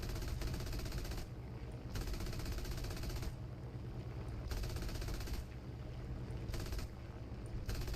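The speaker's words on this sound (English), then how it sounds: "I can't dish the damage with these machine guns" Aircraft machine guns in War Thunder fire in long rattling bursts over a constant engine drone, with short pauses between the volleys.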